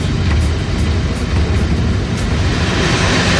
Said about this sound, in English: We're an express passenger train, and they've put a stopping suburban train out in front of us.